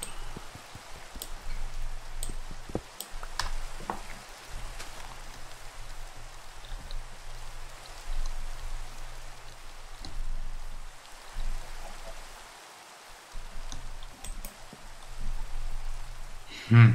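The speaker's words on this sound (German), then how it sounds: "Dem entspannenden Geräusch des Regens." Soft, steady rainfall in Minecraft patters throughout with scattered droplets, accompanied by a low constant hum in the background.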